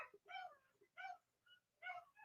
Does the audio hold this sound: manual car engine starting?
no